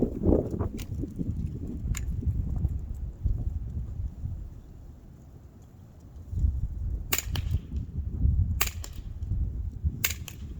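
Umarex Walther CP99 Compact CO2 air pistol fires several sharp cracks in small clusters over a low rumbling background, close and with no speech.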